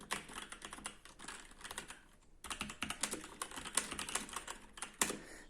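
Fingers type on a Kogan wireless mechanical keyboard close by, a quiet run of rapid clicky keystrokes with one short pause midway, then the tapping resumes unevenly.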